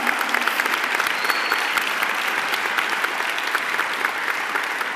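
A school kickoff audience at Dr. Abraham P. Cano Freshman Academy applauds the Navy Jazz Band, with loud, dense clapping sustained evenly throughout and no talking over it.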